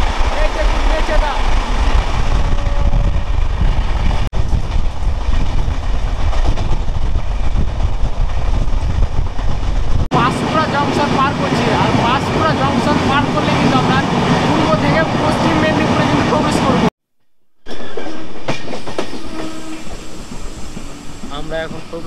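The Rupusi Bangla Express passenger train from Kolkata to Purulia rumbles along the tracks in a loud, continuous roar, with a person talking over it throughout.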